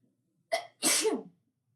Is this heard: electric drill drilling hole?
no